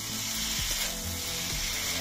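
Cauliflower and duck egg curry masala sautéing over a wood fire in a clay stove, sizzling and frying steadily up close with a few soft stirring scrapes.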